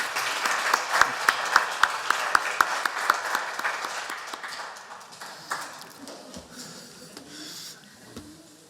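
Church congregation applauding during a Sunday Eucharist service, a broad patter of clapping carrying through the room, with a few sharp knocks near the start before it thins and fades out.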